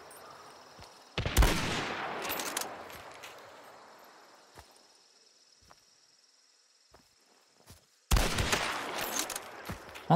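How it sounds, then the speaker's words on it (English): Two loud, sharp shots from a Krag sniper rifle in Hunt: Showdown break a window, about seven seconds apart. The first crack trails into a long decaying echo over faint insect and cricket ambience. "I'm gonna destroy the window."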